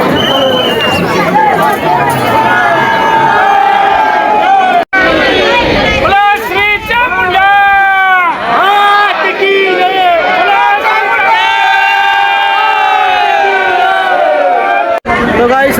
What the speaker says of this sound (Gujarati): આજે પૂનમના લીધે, તો યાત્રિકોની ભીડ છે બહુ